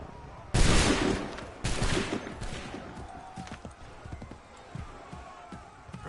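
Soldiers' muskets fire in a volley in Assassin's Creed III, two sharp loud cracking bursts followed by scattered smaller shots and shuffling, with shouted orders and voices around them.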